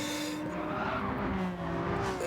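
Race cars in a racing video game on an oval speedway brake hard into a corner, with tire squeal and engine whine sliding in pitch over a steady roar of motors.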